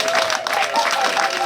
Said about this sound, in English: Can we clap ourselves?